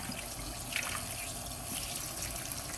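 Tap water runs steadily over a whole red snapper held in a sink, a continuous hissing splash with small trickling variations throughout and no talking.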